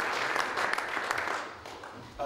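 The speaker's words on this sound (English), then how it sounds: "we'll give him a round of applause" Applause from a seminar audience for a speaker at a structures lab session, a brief spell of clapping that thins and fades over about two seconds.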